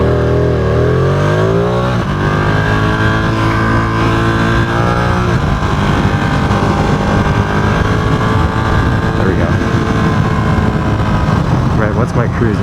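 Ducati Streetfighter V2 motorcycle engine under way, a steady loud drone whose pitch climbs through a gear change early on, then holds at an easy cruise with wind rumble throughout.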